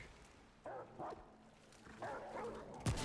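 Dogs in the Remnant video game bark and yip in a few short, quiet bursts over a faint game background.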